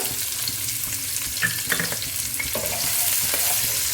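Finely chopped onions hitting hot oil for a chicken gravy, making a loud continuous sizzle with stirring scrapes that grows a little denser toward the end.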